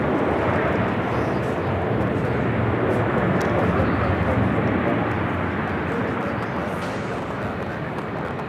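Airliner nicknamed the Queen arriving on the south side of a busy airport, a continuous loud jet rumble and rush filling the clip, steady and close, fading slightly toward the end.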